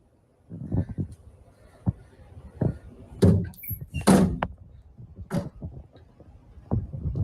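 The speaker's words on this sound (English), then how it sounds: "Knocking can be heard coming from within the door" Irregular knocks and thumps from inside a door in a house, several sharp broadband hits spread across the stretch with quieter bumps between, fairly close and uneven in rhythm.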